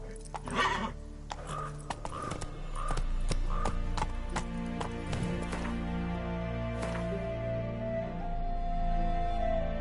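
Roach, Geralt's horse in The Witcher 3, gallops with steady clip-clopping hooves and whinnies and snorts at close range; the pace holds throughout with no talk over it.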